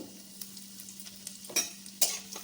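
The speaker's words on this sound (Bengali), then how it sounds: "এবার তেলটা গরম হয়ে গেলে ফোড়নে দিয়ে দিচ্ছি একটা তেজপাতা, একটা শুকনো লঙ্কা" A bay leaf, dried chili, cinnamon, cardamom, cumin and a pinch of asafoetida frying in hot oil over a low gas flame, giving a soft steady sizzle with a few sharper crackles and spatters.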